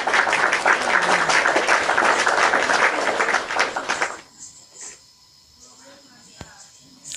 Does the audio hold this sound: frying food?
no